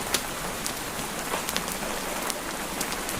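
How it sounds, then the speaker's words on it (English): Steady rain falls outside a Scottish cottage, a continuous close hiss of drops striking surfaces, with scattered sharper individual patters and no voices. "you can see the rain falling in sheets across the garden"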